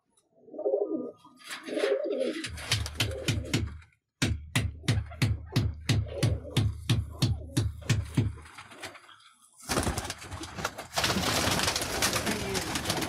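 Several pigeons at a loft, among them a Teddy pigeon, coo in repeated rhythmic bursts close by, with rapid clattering pulses and a burst of wing flapping or scuffling near the end; no speech.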